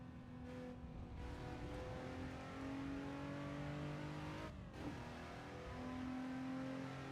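A racing car engine in Assetto Corsa drones steadily with sustained revs and shifting tonal pitch, a faint, continuous engine hum with a brief change midway, no talk.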